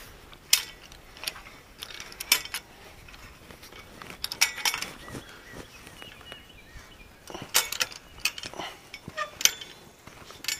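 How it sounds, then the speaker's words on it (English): Metal clicks and ratcheting clatter from a hand winch swiveled on a pole stand with a pulley head, in scattered short bursts at close range with no talking. "if you can see, I swiveled my hand winch"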